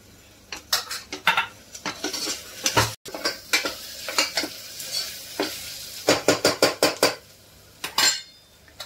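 Spice masala stirred in a metal cooking pot with a spoon, giving rapid clinking and scraping strokes in uneven bursts over a faint sizzle, close and loud.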